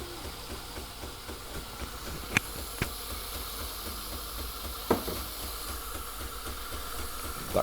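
A Jura E8 EB 2022 coffee machine starts a brew cycle with a steady hiss and a low mechanical hum. A few faint clicks sit on top, and the whole sound stays fairly quiet and continuous.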